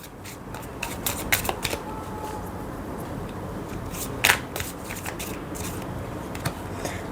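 Oracle cards being shuffled by hand, a steady papery riffle and slide of cards with a few sharper snaps, close and fairly loud, with no talking over it.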